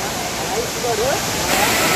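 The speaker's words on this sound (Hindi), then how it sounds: "आगे झरना है।" Dhaskund waterfall near Mahasamund, Chhattisgarh sends up a continuous hissing rush of water, steady and moderately loud, while a person's voice is faintly heard over it.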